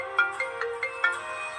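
A mobile phone ringtone plays alone at moderate volume, a short repeating electronic melody of rhythmic tones over roughly a second and a half.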